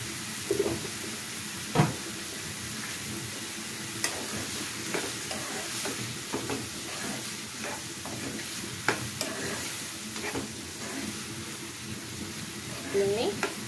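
Food fries in a pan with a steady close sizzle and hiss, broken by occasional stirring scrapes and clatters, while someone talks over it.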